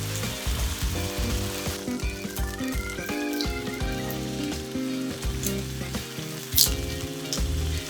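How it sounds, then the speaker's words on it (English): Rump steaks frying in vegetable oil in a hot pan, a soft steady sizzle under prominent background music with tonal melody lines, one brief louder pop near the end. "add the steaks and fry them for 1 to 3 minutes on each side"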